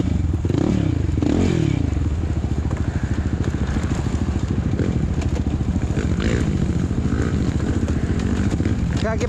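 Quad ATV racing down a bumpy downhill on a hill-climb race track, its engine a close, loud, continuous rattling drone that rises and falls over rough ground, with a voice talking over it.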